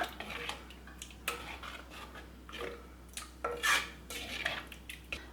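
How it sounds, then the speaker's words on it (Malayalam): A spoon clinks and scrapes against a clay pot while curd curry made with colocasia is stirred, giving irregular sharp taps and rubs over a low steady hum, close and fairly quiet. "നന്നായിട്ടൊന്ന് മിക്സ് ചെയ്ത് കൊടുക്കാം"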